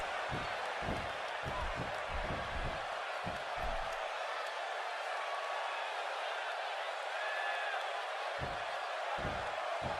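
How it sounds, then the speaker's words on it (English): Wrestling arena crowd in the WWE 2K16 video game makes a steady, dense roar throughout, with scattered low thumps and bursts of noise in the mix. "Another great crowd here in St. Louis."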